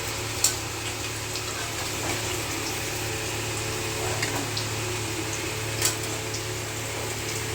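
Paneer pieces fry in hot oil with a steady, even sizzle and a few soft clicks, close and continuous with no talk over it.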